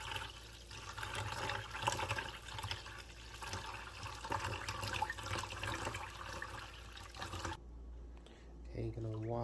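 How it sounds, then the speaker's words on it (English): Cold tap water pours and splashes into a pot holding a cup of rice for washing, a continuous rushing gush that cuts off near the end, followed by a brief clink. "Add the cold water."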